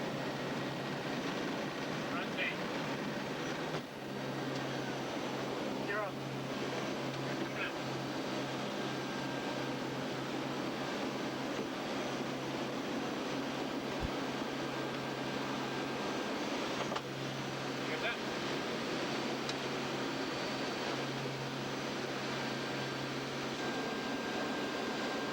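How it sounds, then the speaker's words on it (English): The four engines of a P-3 aircraft drone steadily throughout a takeoff, a constant loud propeller-turbine hum heard from inside the cabin with a few faint clicks. Someone talks over the engine noise. "watching all 4 of those engines for proper synchronization, proper temperatures, and power outputs, ensuring that nothing malfunctions during the takeoff."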